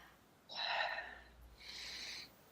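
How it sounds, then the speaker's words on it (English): A slow deep breath in during a guided calming exercise, a breathy inhale followed after a short pause by a long exhale, close and fairly quiet, with no talking. "Take a deep breath."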